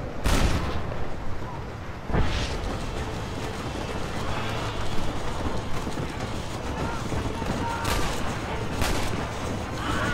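Gunfire in the Western video game Red Dead Redemption, a few sharp loud shots scattered through a dense, noisy battle mix with clanking mechanical sounds and a voice talking over it.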